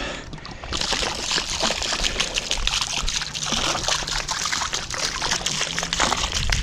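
Liquid chlorine poured into outdoor swimming pool water makes a continuous close trickling and splashing for most of the clip, with no talk.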